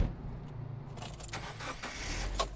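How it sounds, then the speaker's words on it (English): A key rattles and jiggles in the lock of an older Subaru, with clicking metal scrapes over a low idling engine rumble, close and fairly quiet. "Raphael says thieves simply jiggle them in the car's door lock and ignition until they work."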